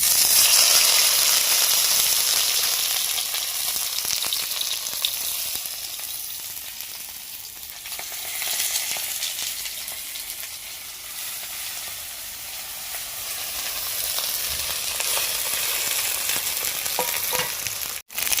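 Mourala fish paturi wrapped in bottle gourd leaves fries in hot oil in a kadai, a steady close sizzle that stays loud and continuous throughout, dipping slightly midway before swelling again.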